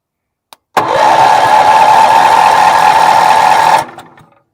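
A Wheel Horse 308-8 garden tractor engine, primed with a shot of brake cleaner, cranks and catches with a loud, steady mechanical drone lasting about three seconds, then cuts off abruptly and fades.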